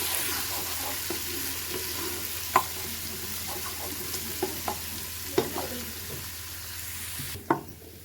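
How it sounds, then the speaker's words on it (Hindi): Ginger garlic paste frying in oil for a mutton dish, a steady close sizzle punctuated by several clicks and scraping knocks of a spoon against the pan; no talking. "इसमें डालेंगे अदरक लहसुन का पेस्ट। इसको थोड़ा सा फ्राई करेंगे 20-25 सेकंड।"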